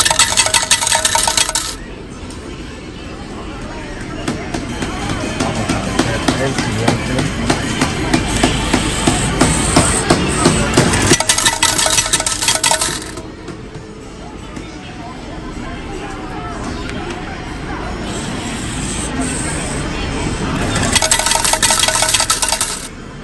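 A burst of coins clattering out of a change machine at a capsule toy shop in Akihabara, Japan, loud and metallic at the start and again near the end, with shop noise and faint voices in between.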